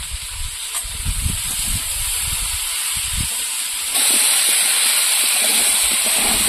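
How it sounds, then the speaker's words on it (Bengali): Elephant foot yam sautéing in a pan with salt and turmeric gives a steady, close sizzling hiss with soft stirring thumps. The hiss grows louder partway through, and no one speaks. "হলুদ দিয়ে ভালো করে ওলটা কষিয়ে নেব।"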